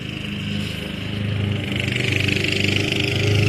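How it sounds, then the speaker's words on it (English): A Craftsman riding lawn mower engine runs steadily nearby, a low rumbling drone that builds slightly in loudness with faint irregular pops, and no talking over it. "that lawnmower sounds really cool"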